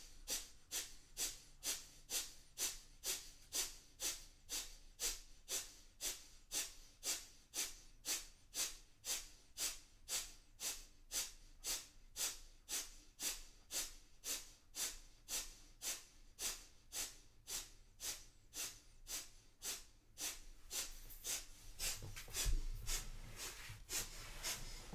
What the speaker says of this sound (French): Concentration au troisième œil, respiration du feu.